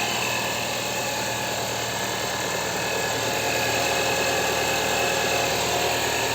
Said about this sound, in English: and here is how the engine sound.